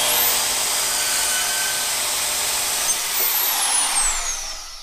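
Bandsaw cutting material clamped in hands-free locking pliers, a loud, continuous high-pitched whining buzz of the blade through the workpiece that eases off near the end.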